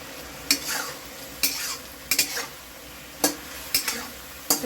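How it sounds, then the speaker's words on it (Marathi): Chicken stirred and fried in an iron wok for fried rice: a steady sizzle with six sharp scrapes of a spatula against the metal, spaced irregularly, close and fairly loud, with no talk. "हे छानपैकी ना असं हलवूनच ते चिकन शिजवून घ्यायचं"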